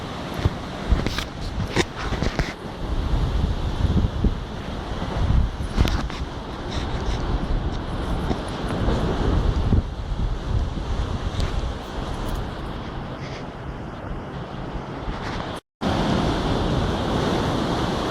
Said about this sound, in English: These swells that come up towards it then break right up here.